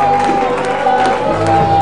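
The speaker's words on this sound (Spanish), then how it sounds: "Dele gracias, dele aplauso al Señor" A church congregation claps and cheers at a spiritual service in Bonaire, the applause dense and steady throughout with a sustained tone and voices mixed in.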